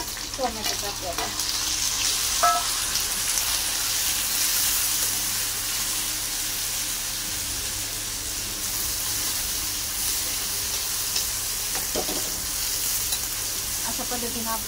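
Tomatoes hitting a hot pan with chili, garlic and spices for a spice paste. A loud, continuous sizzle and hiss runs throughout, with occasional stirring scrapes near the start and end.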